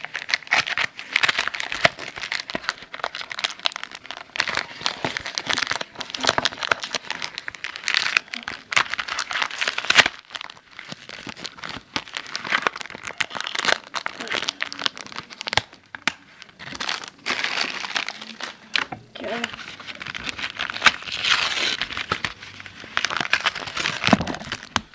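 Plastic blister pack of Pokémon cards being torn open by hand, a steady run of loud crinkling, crackling and ripping of the plastic close up, continuing for the whole stretch with only brief pauses and no talk.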